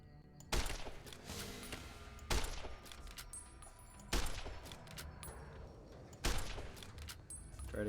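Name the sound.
gunfire in the video game Fallout New Vegas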